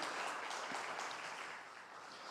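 A church congregation applauding together during a worship service: a short, steady wash of distant, soft clapping with no voices on top.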